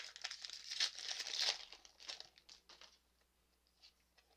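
A Pokémon card booster pack is torn open close up, with crisp crinkling and tearing foil bursts that taper into a few faint rustles.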